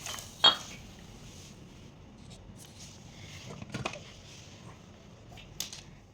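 Pots, bowls and cutlery clatter and clink in a home kitchen, with one sharp metallic knock near the start and a few scattered lighter contacts after, close and clear with no talk.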